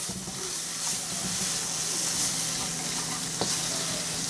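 A steady sizzle of beef browning in a hot pan, a continuous crackling hiss with small pops, fairly close and without voices.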